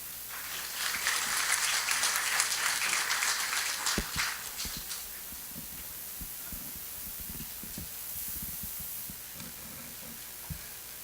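A conference audience gives a keynote speaker a warm round of applause. The clapping swells over the first few seconds, then fades to a quiet room hum broken by a few scattered thuds.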